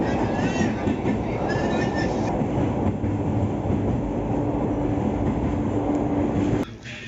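A train at Damodar railway station, a loud, continuous rumble of wheels and carriages up close with faint squeals, then a sudden drop in level near the end, with a person talking.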